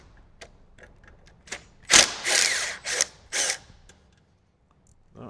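Power driver backing out T40 bolts on a 2014+ Harley fairing, several short whirring bursts with mechanical ratcheting, preceded by light clicks and taps, then a pause.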